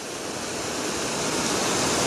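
An artificial waterfall fed by a spring pours in a dense, steady hiss of falling water, loud and close, holding constant throughout with no voices.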